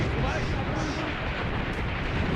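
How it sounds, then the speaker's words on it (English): Enemy tank fire in the WWII tactics game Graviteam Tactics: Mius Front, set in the Kharkov trenches of 1942: a loud, continuous roaring boom that fills the whole moment with dense low rumble. "That's enemy armor firing over here."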